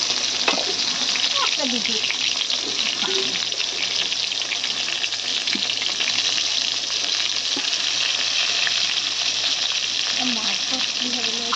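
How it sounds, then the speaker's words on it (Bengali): Steady, dense sizzling of eggplant pieces frying in hot oil, continuous and close, with occasional soft clinks and faint stirring sounds. "এই দেখুন বেগুনগুলো একটু ভালো করে লাল লাল করে ভেজে নেবার"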